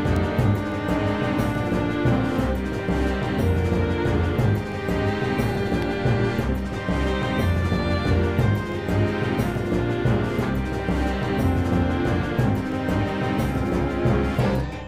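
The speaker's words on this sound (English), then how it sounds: "Then Jose's part sounds like this." Looping battle theme from an RPG Maker VX Ace/MV game, a dense, steady layered track playing continuously at a constant loud level with no talk over it.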